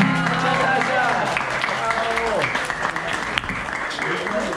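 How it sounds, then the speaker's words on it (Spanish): Applause at a care home for the Zafarrancho performers, a dense burst of clapping from a small crowd with voices and cheers over it, holding steady for several seconds. "Un aplauso para ustedes y otro para Zafarrancho."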